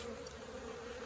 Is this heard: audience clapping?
no